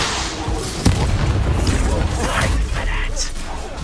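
Incendio fire spell bursting in Hogwarts Legacy, a booming blast that hits hard near the start and rolls into a dense, roaring combat mix of crackling and rumbling effects amid game voices.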